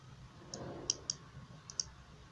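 About five crisp mouse clicks, close and fairly quiet, scattered irregularly over a soft background hiss while working in a MySQL admin interface.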